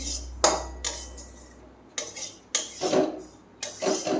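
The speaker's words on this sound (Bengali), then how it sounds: "দেখো বন্ধুরা, সুজিটা ভাজি," Semolina roasting in a pan is pushed around with a utensil, giving a series of dry, scraping strokes and clinks against the metal, close and irregular, separated by short quiet gaps.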